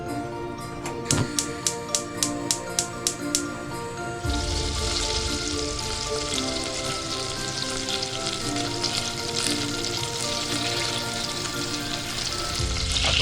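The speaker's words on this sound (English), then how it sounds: "now melt the butter" Butter melting and sizzling in a cooking pan for a cauliflower cheese sauce; a few sharp clicks and taps open it, then a steady, fairly loud broadband sizzle holds through to the end.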